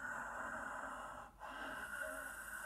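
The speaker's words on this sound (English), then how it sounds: "That raspy, silky, whistling ujjayi breath, victorious breath, seashore breath even." Ujjayi breathing, a raspy throat breath drawn through the nose, close and soft: one long, steady, hissing airflow with a brief pause midway before the breath resumes, heard alone.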